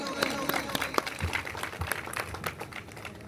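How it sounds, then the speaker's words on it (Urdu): An audience claps at the inauguration of a police post in Khanewal, a dense patter of many hands that is fairly faint, with a voice speaking under it. "ڈاکٹر سید خاور علی شاہ، آپ کی بھرپور تالیوں میں."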